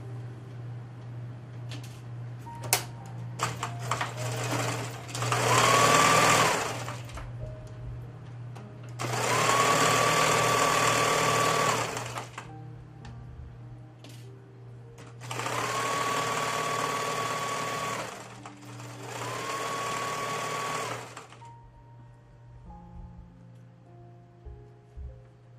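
A sewing machine stitches a quarter-inch holding seam on a double drain bag pillow in four long bursts of steady whirring, separated by quiet pauses with faint handling sounds and a low constant hum.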